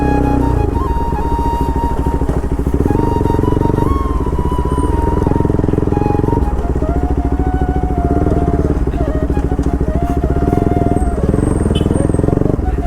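An RS200 motorcycle rides at night over a broken, waterlogged road with its raw exhaust droning loud and close, the engine note rising and falling steadily as the bike slips and picks its way along.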